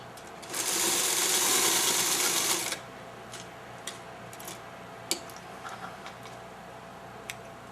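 A sewing machine stitches quilt block fabric in one loud, steady whirring burst of about two seconds, then goes quiet apart from a few faint clicks and taps.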